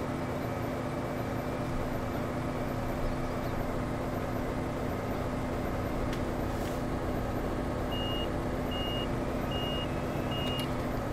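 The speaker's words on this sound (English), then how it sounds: "I do like the reversing beep as well." Reversing beep of a farm vehicle in Farming Simulator 2015, faint evenly spaced beeps near the end over a loud constant engine drone.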